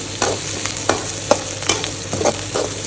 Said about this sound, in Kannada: ಈರುಳ್ಳಿ ಮತ್ತು ಮೆಣಸಿನ್ಕಾಯಿ ಹಾಕಿ ಒಗ್ಗರಣೆ ಮಾಡ್ಕೊಳ್ತಾ ಇದ್ದೀನಿ.